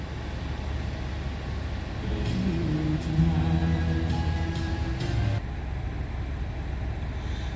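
A 2025 Buick Encore GX engine idles steadily after an oil change, a low continuous hum with a slight rise in the middle before settling back to an even idle, heard close and alone.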